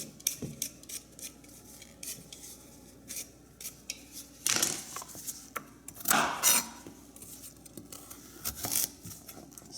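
A knife slicing peeled vegetables on a cutting board during weekly meal prep, with soft scraping and rubbing broken by several sharper, louder cuts and clatters, close up and with no talking.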